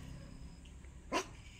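A hunting dog lets out a single short bark at moderate distance, standing out briefly against quiet background ambience.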